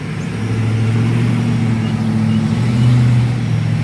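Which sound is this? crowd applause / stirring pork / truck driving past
truck driving past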